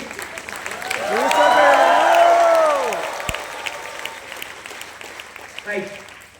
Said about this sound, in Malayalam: ഇന്ന് പോകുന്നവരെ കൈയടിക്കണം.